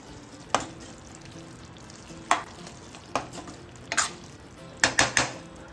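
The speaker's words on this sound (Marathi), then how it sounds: "भाजी परत एकदा छान मिक्स करून घ्यायची" A spoon scrapes and clanks against a pan as bhogi vegetable curry is stirred and mixed, giving sharp intermittent knocks over a soft background sizzle, with no talk.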